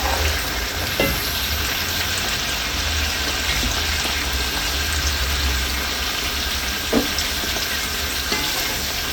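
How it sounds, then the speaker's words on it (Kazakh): Steady sizzling of spiced food for mutton plov frying in a pot, with a few scraping clinks of a spoon stirring near the start and later, no voices. "Енді осыны жақсылап араластырамыз"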